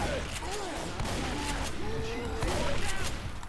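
Rapid gunfire from the video game Left 4 Dead 2 rattles in dense bursts under a voice talking over it, the shots continuing steadily throughout.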